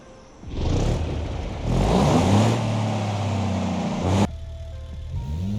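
A car engine in the BeamNG driving game revs up in two rising surges with a strong mid-low drone and climbing pitch, then cuts sharply to a quieter idle with a soft tone.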